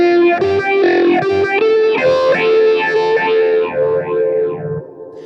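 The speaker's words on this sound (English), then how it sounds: "So what's happening there is your fuzz is going into the phaser" A fuzz pedal fed into a phaser set to a sine-wave sweep colors a guitar line, notes buzzing with smooth rising and falling swooshes, loud, close and unaccompanied.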